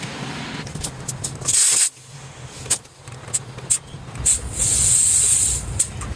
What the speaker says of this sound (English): So now we're going to inflate the tire.